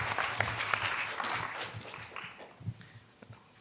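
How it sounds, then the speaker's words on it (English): An audience at a keynote address gives a round of applause, a burst of clapping that fades and thins toward the end. "So please welcome Mr. 𝐻𝐻 with a big round of applause."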